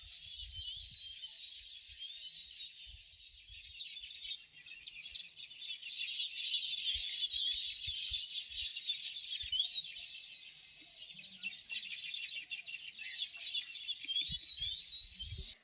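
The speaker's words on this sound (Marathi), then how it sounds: "पाठीमागे जी नारळाची झाडं आहेत इकडे मस्त चिमण्यांचा आवाज येतोय चिवचिव चिवचिव" Faint, busy chirping of house sparrows in coconut trees, many overlapping tweets in the distance, with occasional soft knocks close by.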